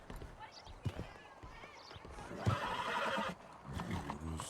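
A horse in a Red Dead western roleplay game lets out a loud, drawn-out whinny midway, among scattered hoof-like thuds and game noise, while people talk over it.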